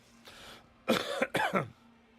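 A breathy exhale followed by two harsh coughs in quick succession, close and fairly loud, with faint background hum.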